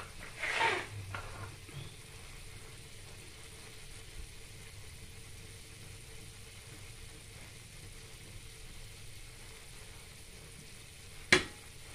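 Tuna in coconut milk simmering in a pan, a faint steady sizzle and low bubbling, with a brief clatter near the start and a sharp knock near the end.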